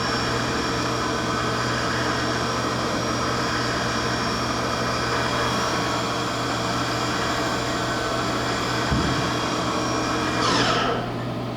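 The spindle of a Haas VF2 vertical machining center spins steadily at 4,500 RPM, giving off a constant whining hum with a low drone beneath it, alone and close, with a brief clunk and rising whir near the end.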